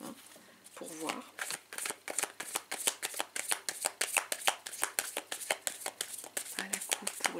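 A deck of witches' tarot cards being cut and handled, a quick run of crisp, evenly spaced flicks and slaps close by, with brief rustling at the start.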